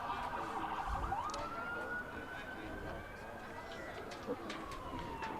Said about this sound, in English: Helps with the sirens in the back.